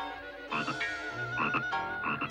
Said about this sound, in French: Oh, quelle chance! C'est un crapaud!